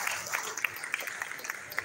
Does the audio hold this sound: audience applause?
yes